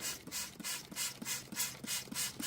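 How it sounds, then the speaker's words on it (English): EvapoRust rust remover sprayed down a gym equipment tube in bursts of hissing spray, about eight short rhythmic puffs at steady intervals with faint mechanical clicks. "I'll spray it down the tube"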